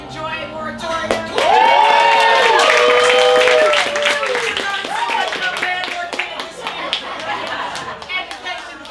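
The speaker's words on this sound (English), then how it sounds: "one more round of applause for Kat" A comedy show audience claps in a scattered patter of many hands, mixed with crowd chatter and heard under a voice speaking over it.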